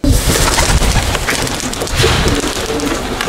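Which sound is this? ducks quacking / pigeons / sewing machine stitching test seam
pigeons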